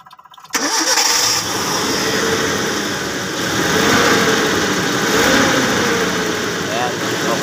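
An engine being started after storage turns over with one click and immediately catches, then settles into a loud, steady running drone with slight swells in revs.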